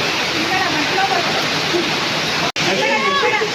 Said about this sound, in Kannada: ಆನೆಕಲ್ ಮಳೆ ಬೀಳ್ತಾ ಇತ್ತು, ಸಿಕ್ಕಾಪಟ್ಟೆ ಸೌಂಡು.